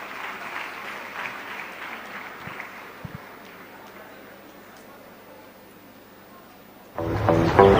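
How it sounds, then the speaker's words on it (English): Applause from the audience at an African legacy summit in a hotel hall, steady and moderate for about seven seconds before louder sound and voices take over at the end. "A round of applause, please."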